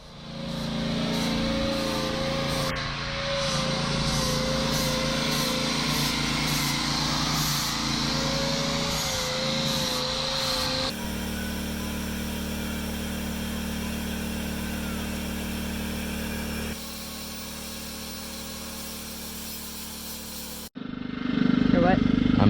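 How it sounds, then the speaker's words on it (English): A power sander works on the blistered fiberglass bottom of a sailboat hull, a loud steady whine and grinding hum running continuously, with shifts in tone as the tool moves and stops briefly near the end. "Let the sanding begin."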